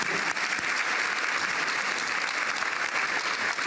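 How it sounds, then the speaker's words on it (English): Steady, sustained applause from a large crowd at a women's leadership awards event, dense clapping filling the whole stretch with no voices standing out. "please give yourselves a nice round of applause"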